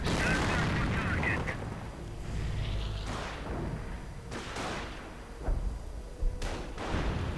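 Sector artillery fire in a real-time strategy war game, with heavy booms and bursts of gunfire scattered across the stretch while a commentator talks over it.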